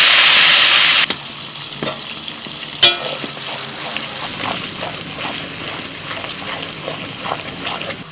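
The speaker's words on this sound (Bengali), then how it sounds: "পেঁয়াজ বাটাটা কিছুক্ষণ নাড়াচাড়া করে ভেজে নিয়েছি।" Onion paste made from five medium onions, with cardamom, cinnamon and cloves, sizzles in a pan for chicken makhani. It starts with a loud hiss that settles into steady frying, broken by the scrape and clatter of a stirring spoon.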